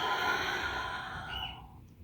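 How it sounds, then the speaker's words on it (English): One long, soft exhale as the body folds forward during a slow yoga class, breathy and close, fading out toward the end with no speech. "With your exhale, after that big inhale, we come forward."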